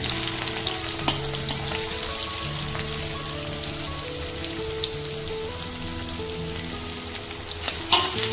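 Green chillies and chopped onion frying in oil with a dense, continuous crackling sizzle like rain, occasional utensil knocks as they are stirred, close and steady with no voices.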